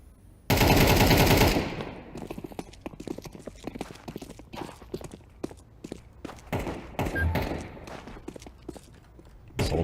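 A decoy grenade in a video game fires fake gunshots, a loud burst of rapid automatic fire followed by scattered sharp pops and clatters at uneven intervals.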